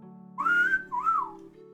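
A person whistles two rising-and-falling notes in quick succession, clear and close, over a low steady background hum.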